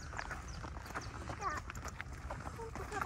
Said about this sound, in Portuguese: Andando de cavalo